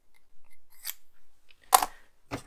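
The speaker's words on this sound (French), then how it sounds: "je range mes ciseaux" Metal scissors being set down and put away during paper crafting, a few short separate clicks and clatters close by, with a louder handling clack near the middle and another at the end, no talking.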